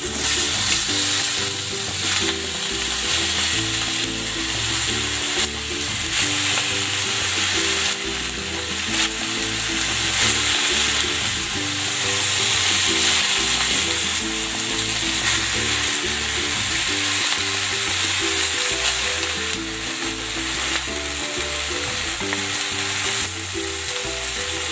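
Chicken pan-fries in hot oil with a steady, close sizzle and crackle, broken by occasional stirring or scraping sounds, and no talking.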